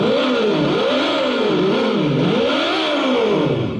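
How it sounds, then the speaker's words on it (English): A Segway Ninebot GoKart Pro plays a synthetic engine sound in a fast-motorcycle mode, a loud, steady whine that rises and falls in smooth repeating revving sweeps with no talking. "Kind of sounds like a really fast motorcycle, I guess."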